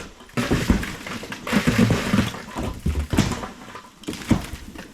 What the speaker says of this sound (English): all that noise you hear is the ice falling.